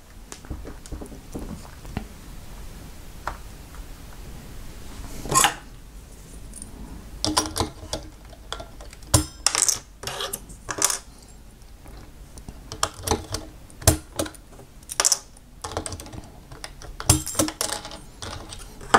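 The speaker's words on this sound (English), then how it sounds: "Now let me just take apart some of the keys real fast." Plastic keycaps being pried off a compact Cherry G84-4100 keyboard with Cherry ML switches, a scattered series of sharp close clicks, snaps and rattles at irregular intervals, with no talking.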